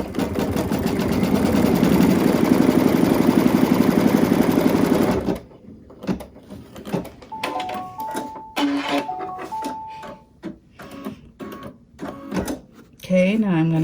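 Sewing machine stitching down the tack on a zipper bag, a loud rapid mechanical whirr for about five seconds that stops abruptly, followed by quieter handling sounds while a person talks.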